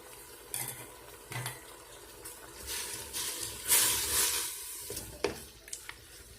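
Food frying in a pan while tlitli in red sauce is prepared, a steady sizzle broken by stirring scrapes and light clinks of a utensil against the pan.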